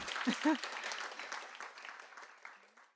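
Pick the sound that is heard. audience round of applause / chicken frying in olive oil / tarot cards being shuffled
audience round of applause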